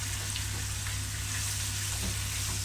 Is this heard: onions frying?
yes